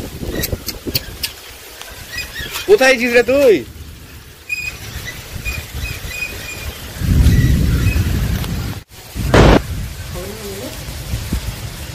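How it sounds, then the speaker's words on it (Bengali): A storm with wind and rain, heard as a loud steady roar of wind and rain through the whole stretch, with people shouting and talking over it close by. "এই যে ঝড় উঠেছে, বৃষ্টি পড়ছে।"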